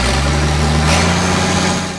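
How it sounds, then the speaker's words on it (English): IH 5288 tractor engine running, a loud, close, continuous low diesel drone with a brief swell in the middle. "Tractor 5288IH is the perfect solution for easily removing tree stumps."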